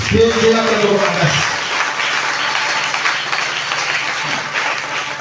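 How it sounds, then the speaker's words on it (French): A church congregation applauds and cheers for Jesus during a French-language deliverance service, a loud sustained wash of clapping and crowd noise that fills the room, with a voice audible at the start. "Acclame très fort pour Jésus"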